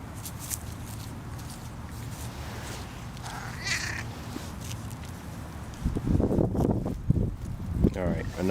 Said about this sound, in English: Quiet cat.